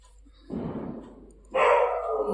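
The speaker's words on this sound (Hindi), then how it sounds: "मेरे कुत्ते जो हैं बम पटाखा से डर रहे हैं, तीनों के तीनों भौंक रहे हैं" Three frightened dogs bark at firecrackers, a burst of mixed yelps starting after a quiet moment, then louder, overlapping higher-pitched barking crowding in close.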